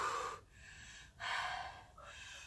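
Forceful breaths during a postnatal gym exercise: two long, loud airy exhalations close to the microphone, separated by a short pause, and a softer third breath at the end.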